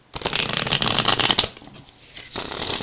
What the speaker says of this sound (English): So I just got 2 more shuffles here left to go before I start laying down the cards